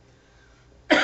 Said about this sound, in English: I guess I'm very sorry for this constant cough